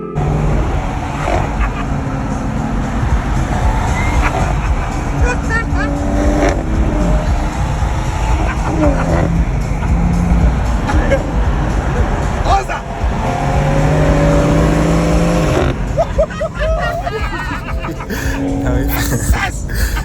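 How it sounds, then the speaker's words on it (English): A BMW M4 sports car's engine growls loudly and continuously from inside the cabin, revving and shifting, with voices and laughter mixed in. "I got to ride in my boy M135's M4, and I'll tell you, the M4 is just aggressive"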